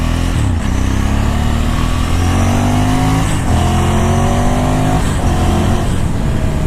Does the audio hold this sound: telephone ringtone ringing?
no